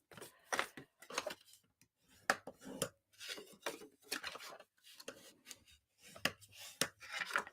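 Folds in cardstock are burnished with a tool in short, dry rubbing strokes that come in irregular bursts with brief pauses between them, close and fairly quiet, with no talking.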